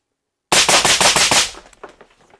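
A rapid string of about eight sharp gunshots fired through a normal, non-flow-through suppressor, loud and close, followed by a second of fading echoes.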